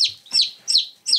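A young rooster being held gives three or four quick, sharp high clucks in a steady rhythm, close to the microphone with nothing else in the background.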